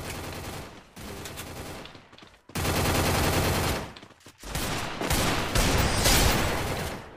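Rapid automatic gunfire in the shooter game Free Fire, played with keyboard and mouse, comes in loud sustained bursts separated by short pauses, dense and close throughout.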